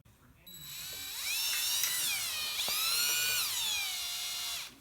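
A drill bores into a metal brake line pipe with a high, sustained whine that rises and dips in pitch as it cuts, close and steady for several seconds.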